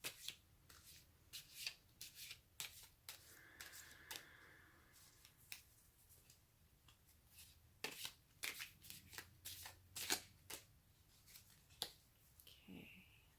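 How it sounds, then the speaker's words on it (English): Tarot deck shuffled by hand during a reading, a run of crisp riffling bursts and card slaps in irregular rhythm, close and clear with no talking. "Okay, one more shuffle."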